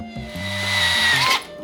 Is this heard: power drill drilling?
yes